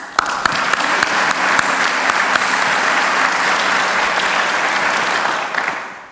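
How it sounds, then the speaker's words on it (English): A large audience applauds at a university College of Education graduation convocation, loud sustained clapping with scattered sharp claps, continuous for several seconds before fading at the end. "we all applaud you, class of 2013"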